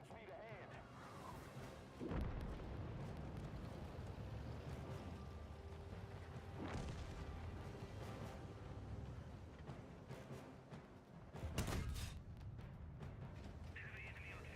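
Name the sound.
artillery fire near Juno in a video game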